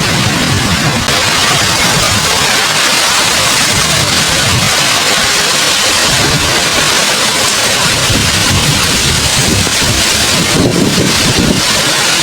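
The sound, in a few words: typhoon wind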